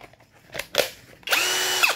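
A Marula MR-HD0120AK cordless three-function hammer drill with a 13 mm chuck whirs up after a few handling clicks and runs steadily at close range, with a brief pitch change near the end.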